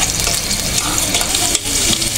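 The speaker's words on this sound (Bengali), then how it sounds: "তো আমার পেঁয়াজটা হালকা একটু ভাজা হোক।" Onion frying in oil in a kadai, a steady dense sizzle that stays loud and close throughout, with a faint clink partway through.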